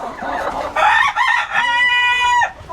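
A rooster kept indoors with other roosters crows loudly at close range, a single drawn-out crow of about two seconds following some clucking.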